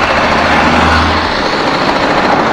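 A TVS Apache RR 310 motorcycle is ridden at low RPM. Loud, continuous engine drone with wind roar, and a low engine tone that drops away midway through. No voices.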